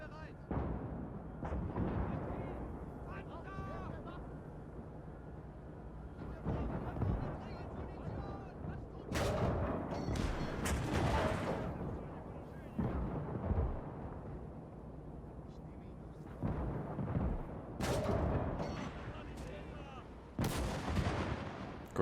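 Tank and artillery cannon fire in the WWII real-time strategy game Call to Arms, set on the Eastern Front: repeated heavy booms at irregular intervals over a rumbling battlefield bed, loud and close.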